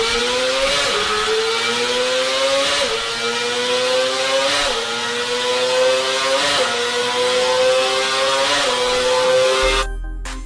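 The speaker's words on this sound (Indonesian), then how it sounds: "Ini dia contoh suaranya dari ZX25R." A Kawasaki ZX25R racing motorcycle's high-pitched four-cylinder engine revs repeatedly, rising and falling in a rapid cycle of sharp, screaming throttle blips, loud and close, before cutting off at the end.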